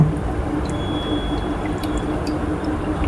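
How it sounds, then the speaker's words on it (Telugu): Water trickles slowly through the strainer of a Longway mixer juicer, a steady, close, gentle dripping and gurgling flow that continues evenly for about three seconds without speech. "దీంట్లో అంటే చూడండి చాలా స్లోగా దిగుతుంది వాటరు"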